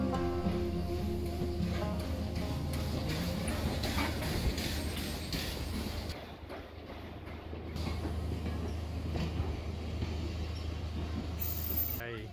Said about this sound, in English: Here comes our train, and the loco for today is a Hunslet Austerity class named Royal